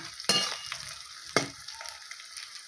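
Raw banana frying in a pan over a wood-fired clay stove, with a soft steady sizzle broken by two sharp stirring scrapes, close and fairly quiet.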